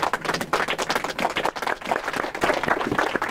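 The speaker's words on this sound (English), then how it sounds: "Let's give her a big round of applause." Lively audience applause, many hands clapping in a dense, uneven burst that stays loud throughout.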